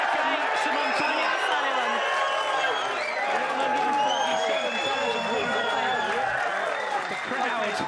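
Snooker crowd at a Ronnie O'Sullivan match bursting into sustained loud applause and cheering with whoops after his second maximum 147 break, a dense roar with voices mixed in throughout.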